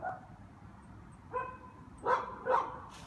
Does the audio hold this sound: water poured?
no